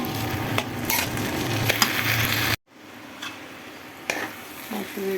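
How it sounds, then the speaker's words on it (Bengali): Vegetables being stirred in oil in a pan on an induction cooker, with scraping and clattering stirring strokes over a soft sizzle, interrupted by a brief cut, then quieter utensil knocks. "তেল দিয়ে দিলাম দিয়ে ভালোভাবে নাড়াচাড়া করে নিচ্ছি"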